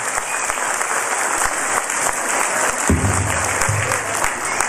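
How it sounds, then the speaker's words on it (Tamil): A hall audience breaks into steady, full applause for teachers during a motivational speech, a continuous wash of many hands clapping close by. "அந்த ஆசிரியர்களுக்கு ஒரு அரங்கம் நிறைந்த கைத்தட்டலை நாம் பரிசாகிறோம்"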